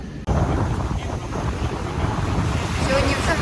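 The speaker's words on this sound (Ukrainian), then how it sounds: "взагалі на морі дуже сильно хвиля" Strong sea surf at Railay Beach in Krabi rolls and crashes continuously, a loud, steady wash of waves mixed with heavy wind buffeting the microphone, with no voices.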